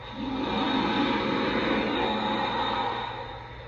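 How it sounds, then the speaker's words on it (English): A model locomotive's steam blowdown sound effect: a steady, loud hiss of rushing steam lasts a few seconds before easing slightly, with a low hum underneath. "And then we got a steam blowdown sound effect."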